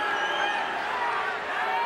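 Restless crowd murmuring at a no-holds-barred fight, a steady low roar of many voices in the arena under close commentary.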